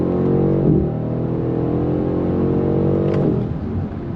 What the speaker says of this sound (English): I love the way you're hearing the sound of the exhaust